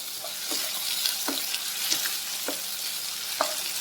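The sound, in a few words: ginger garlic paste frying in a pan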